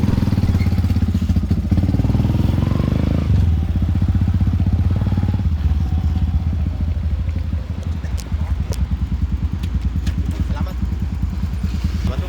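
A Yamaha YTX125 Scrambler motorcycle rumbling as it rides onto a barge, its engine chugging close and loud with a steady pulsing beat that eases slightly toward the end.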